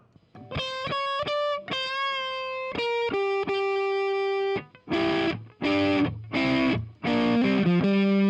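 An electric guitar played through the Ampire amp simulator in Studio One gives loud, distorted notes and sustained chords with bright overtones, followed by several choppy strummed bursts.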